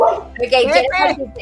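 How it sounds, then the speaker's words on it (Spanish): A dog barks in quick, high, yapping bursts, close and loud, with two or three whiny yips running together. "Ese es mi perro Pepe"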